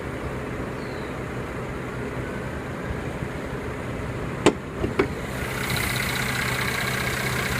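A 2014 Mercedes-Benz C350 with a 3.5-liter direct injection V6 idles steadily under the open hood, a low even hum with a few brief knocks partway through.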